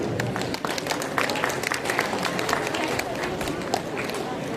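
Audience applause at a school investiture ceremony where cadets receive badges, a dense, steady wash of many hands clapping at close range throughout, with no talk over it.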